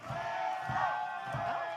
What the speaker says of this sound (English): Listen to this crowd, though, Josh. They are behind Hoda Peso here tonight